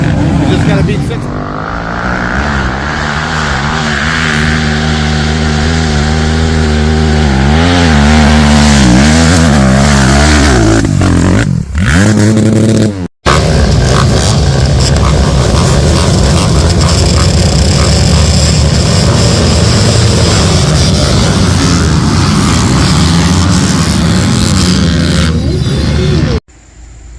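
A 2008 Yamaha YZ250F dirt bike engine runs loud and close, its pitch rising and falling with revs, cutting out briefly midway before roaring steadily again.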